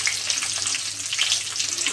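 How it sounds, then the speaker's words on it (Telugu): Curry leaves crackle in hot tempering oil for a coriander pickle, a bright dense sizzle with quick popping spatters, close and steady. "తర్వాత కరివేపాకు అండి. చూడండి చిట్పట్ చిట్పట్ అంటుంది అది."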